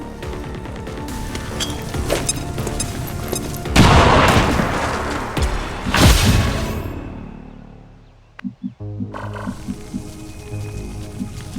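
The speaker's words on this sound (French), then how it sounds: "Grenade!" A grenade goes off in XCOM 2 as two heavy booms a couple of seconds apart amid battle noise, then a rumbling fade into quieter game sounds.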